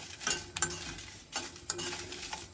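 Garlic and dried red chillies fry in a small amount of oil with a soft sizzle, broken by repeated scraping strokes of a spatula stirring in an irregular rhythm.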